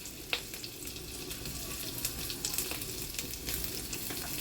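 Finely chopped ginger fries in a pan with cumin and green chilies, a steady, even sizzling hiss with a few faint stirring clicks and no talk.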